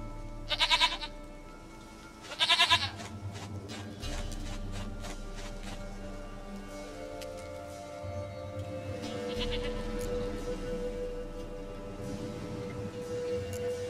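Two loud, wavering goat bleats in a video game come close together near the start, followed by a long stretch of quieter low ambient game sound.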